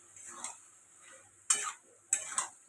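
A spoon stirs vegetable curry with a little ghee in a pan, giving a few scraping strokes with soft sizzling between them, close and clear.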